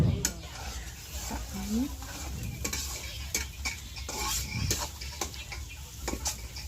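Eggs fry on a clay stove with a light sizzle and scraping stir sounds, mixed with clicks, knocks and voices nearby.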